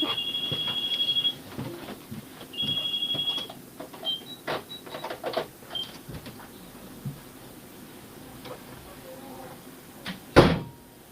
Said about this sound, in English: Someone's ringing on my door.